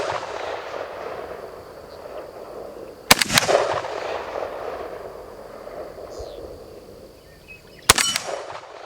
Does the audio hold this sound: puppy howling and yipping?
no